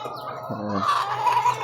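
Laying hens in an egg-production flock cluck in a short burst, close and fairly loud, with throaty rising calls and some squawking over a steady low background hum.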